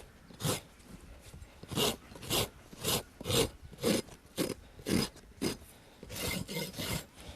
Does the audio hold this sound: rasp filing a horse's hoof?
yes